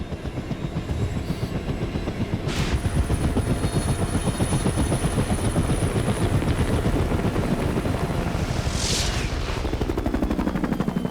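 A rescue helicopter airlifting a critically injured train crash survivor, its rotor chopping loud and continuous up close, with a rhythmic heavy thrum throughout.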